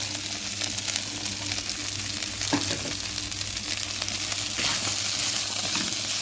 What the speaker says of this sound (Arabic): هشوح الباميه في السمنه